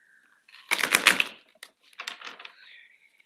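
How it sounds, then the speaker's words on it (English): Tarot cards shuffled by hand, a few quick riffling bursts of papery flutter close up, the longest first and then shorter, stuttering ones, alone with no talk. "I'm even having a little trouble shuffling now."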